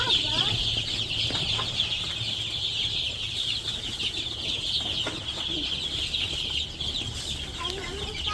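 Chickens on a small village poultry farm cluck and call over a continuous background din, with occasional voices nearby.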